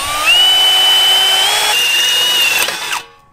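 Close and loud, a power drill with a new bit bores through material at a DIY skatepark build, a steady high whine holding for nearly three seconds before spinning down to silence.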